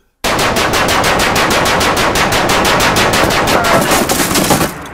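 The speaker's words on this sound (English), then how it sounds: "With 100 rounds fired, Guy inspects the damage." Spitfire machine guns fire a continuous rapid burst of about twenty evenly spaced, very loud, sharp shots lasting several seconds, then cut off abruptly.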